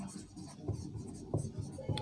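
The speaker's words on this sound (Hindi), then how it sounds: "ARP की फुल फॉर्म आपको लिख देता हूँ मैं" A teacher writing on a board during a computer class: soft, repeated scratching and tapping strokes at a low level, with no talking.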